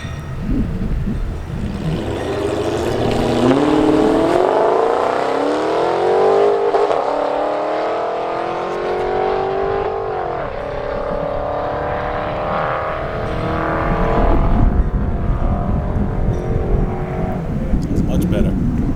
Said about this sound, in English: trying to do runs in his 300C